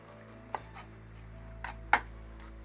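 A knife chops spring onions on a board while abacha, an African salad, is prepared: three sharp, isolated cuts spaced apart over a quiet room hum.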